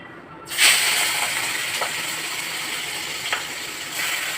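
Steady loud sizzling hiss of tiger prawns frying in hot oil, beginning suddenly after a brief quiet moment, with a few faint clicks over it.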